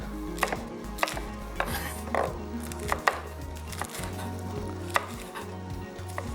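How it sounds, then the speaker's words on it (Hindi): Green chillies julienne-cut with a knife on a board in a home kitchen, a series of crisp, irregular chopping taps at close range over a low steady hum, with no talk. "हरी मिर्चों को कर लेते हैं जुलियन कट।"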